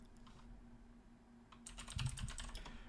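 Typing on a computer keyboard, sparse taps at first, then a quick flurry of close, crisp keystrokes over a faint steady hum.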